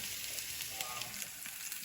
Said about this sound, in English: I'm using coconut oil here right now. You hear that? So it's getting hot and nice,